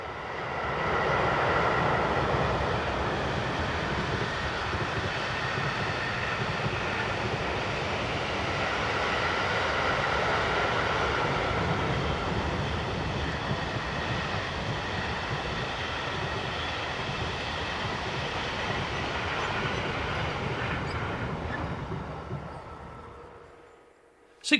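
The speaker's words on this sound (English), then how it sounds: "the locomotive had received its Class 620 numbers and rounds the curve at Effingen, on the route between Brugg and Basel, with a mixed freight for Muttens" A Re 6/6 Class 620 electric locomotive hauls a mixed freight train around a curve at Effingen, Switzerland, on the line between Brugg and Basel; a steady, broad rumble and rolling noise persists close by for the whole pass before cutting off at the end.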